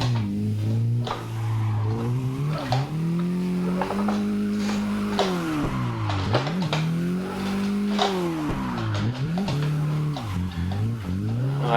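A Mazda MX5 Miata drifts at CG Drift Park, its engine revving hard and rising and falling continuously as the car slides. Tire squeal runs through the steady, loud onboard engine drone.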